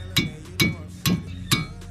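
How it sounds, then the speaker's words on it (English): Four sharp metallic hammer taps, evenly spaced about half a second apart, ringing briefly against a front brake part of a 1997-2002 BMW Z3 close by. "the way I did it was tapping"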